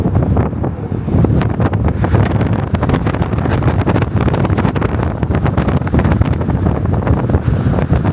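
Strong gusts blow hard into the microphone outdoors on a windy city day, producing a loud, continuous rumbling buffet that dominates throughout with no voices heard.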